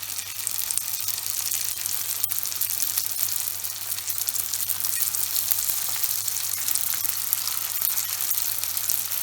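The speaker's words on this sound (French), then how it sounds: "À présent, on va faire cuire dans de l'huile très chaude." Meat and potato bricks frying in very hot oil, a steady, even sizzle and crackle that holds throughout with no talking, a faint low hum running beneath it.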